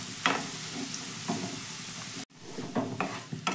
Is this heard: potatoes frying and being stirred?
yes